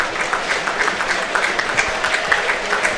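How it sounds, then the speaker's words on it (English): Football crowd at an Ayr United versus Dundee United match applauding a substituted player as he leaves the pitch, a steady dense wash of clapping from many hands across the stands, sustained and moderately loud throughout with no voices standing out. "And also coming off probably for applause is Louis Moult"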